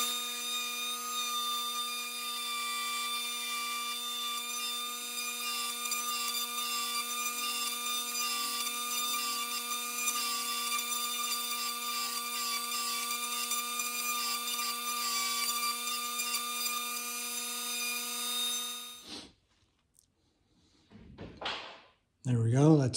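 A mini pin router cuts a fretboard inlay pocket from a template with a 1.5 mm bit, giving a steady, loud high-pitched whine that runs for about 19 seconds, then stops, followed by brief faint handling noises.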